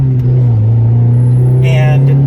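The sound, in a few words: Honda Prelude driving on the street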